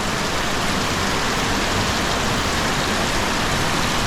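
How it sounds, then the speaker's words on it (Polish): Heavy rain pours without a break as a dense, loud, even hiss, with no pauses and no voices. "Ale leje."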